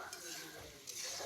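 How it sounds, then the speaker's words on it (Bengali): Fried chicken and potatoes are stirred in a frying pan, with a continuous scraping and sizzling sound that stays close and steady throughout the brief moment. "এখন আমি আমার মুরগি ভাজা আলু ভাজাটা দিয়ে দিব"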